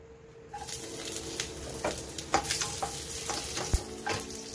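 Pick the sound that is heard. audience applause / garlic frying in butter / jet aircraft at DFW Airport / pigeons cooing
garlic frying in butter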